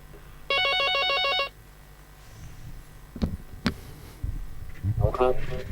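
A telephone ringing in a loud warbling trill for about one second, followed by quieter knocks and room noise, with people talking afterward.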